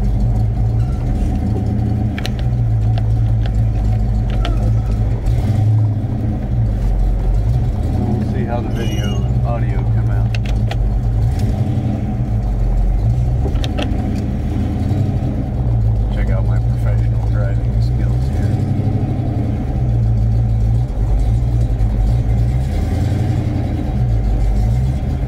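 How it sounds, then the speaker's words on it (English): A car engine hums and rumbles steadily as the vehicle drives, loud and close throughout, with a person talking over it. "My car's a little loud."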